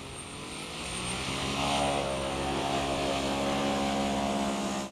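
A homemade V-22 Osprey model aircraft flies with its propellers whirring, a steady droning buzz that holds loud and close throughout before cutting off at the end.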